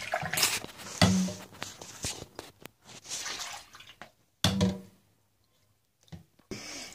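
Cheesemaking equipment rinsed in hot water, bursts of running and splashing water with clunks of utensils and short pauses between, close by.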